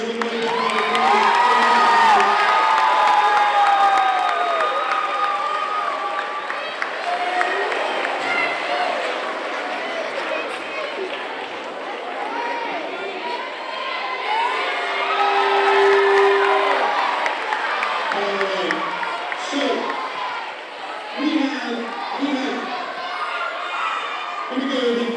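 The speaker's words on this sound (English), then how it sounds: "All right, let's give our upstanders one more round of applause." Schoolchildren in a crowded assembly cheer, shout and whoop continuously, with scattered clapping mixed into the loud, sustained crowd noise.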